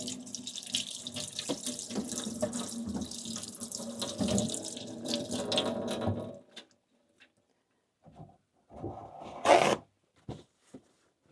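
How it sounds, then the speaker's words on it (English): Hands washed under a running kitchen tap in an RV during cooking, a steady close stream of splashing water for several seconds that stops, followed by a few faint drips and brief rubbing sounds. "Wash the hands again."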